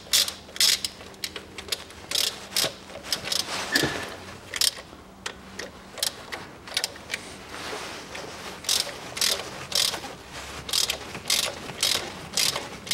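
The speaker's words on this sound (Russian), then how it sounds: "Откручиваю болты демпфера." A ratchet wrench clicks in repeated bursts while undoing the damper bolts on a Land Rover Discovery 3, loud and close, with brief pauses between strokes.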